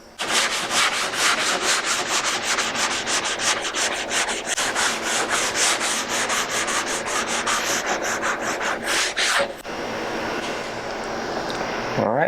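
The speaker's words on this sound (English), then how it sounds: "take your sanding block and start working those away." Hand sanding block working down ridges in drywall mud, brisk repeated strokes loud and close for about nine seconds, then a brief pause and quieter scraping with a faint hiss behind it.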